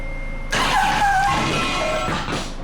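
A Kubota diesel swapped into a 1965 Jeep CJ5 cranks and catches, a sudden loud rough burst of engine noise that settles into a rattling idle before dipping and fading.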